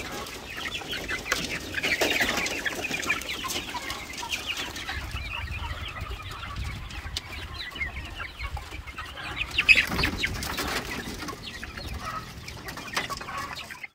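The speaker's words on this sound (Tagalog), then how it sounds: "Ito naman yung ating black australorp lady kanila, dahil gutom na rin nito." A Black Australorp hen clucks softly among other farm chickens, with scattered quiet calls against faint background noise and no speech.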